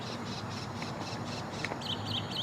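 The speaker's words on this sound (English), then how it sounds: "there's another bird chirping. They're all making noise." A bird calls outdoors in Florida, a few faint squawking chirps repeating over steady background noise.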